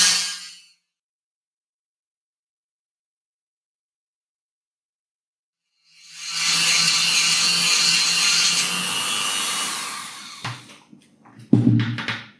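A Dremel rotary tool with a milling bit bites into frame material at low speed. A short burst, a long silence, then a steady grinding whine lasting about four seconds, ending in a few clattering knocks.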